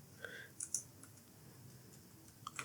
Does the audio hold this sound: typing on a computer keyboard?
yes